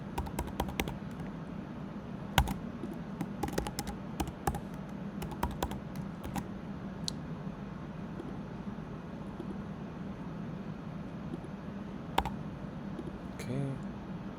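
Password typed on a computer keyboard, a quick burst of close key clicks at the start, then scattered taps over a low steady hum, with a couple of louder keystrokes later.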